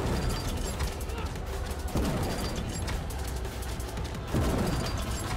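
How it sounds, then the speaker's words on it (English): Grenade launcher fire in the game Sprawl, with repeated heavy booming blasts and explosions over a dense, continuous din of gunfire and game noise. "It's just a grenade launcher."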